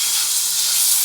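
Chopped spinach hitting hot oil in a pot over a wood-fired stove, giving a bright, dense hiss that stays loud and steady through a short burst, close by and with no talking.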